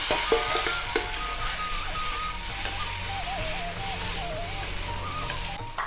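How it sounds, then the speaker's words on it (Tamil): Colocasia roots roasting in a pan with red chilli powder and asafoetida, giving a steady close sizzle with light stirring scrapes and a few clinks, ending abruptly. "சேப்பங்கிழங்கு வந்து கொஞ்சம் ரோஸ்ட் ஆகட்டும்"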